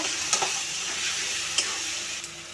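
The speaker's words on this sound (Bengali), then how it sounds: "এবার দেবো বাটা মশলা, লঙ্কার গুঁড়ো, ধনে গুঁড়ো, জিরের গুঁড়ো, সব কটা মশলা ভালো করে মিশিয়ে নেব।" Mutton curry spices — ground paste, chilli, coriander and cumin powders with turmeric and salt — sizzling steadily in a pan, with a few sharp scrapes of a stirring spoon; no talking.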